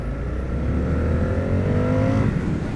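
An Indian FTR 1200 S motorcycle on its stock exhaust revs loud and close, a deep steady engine drone rising in pitch as it accelerates, with no talk.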